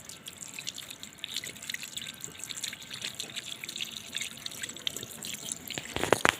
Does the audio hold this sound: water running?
yes